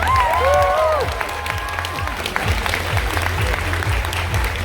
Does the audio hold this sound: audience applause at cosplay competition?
yes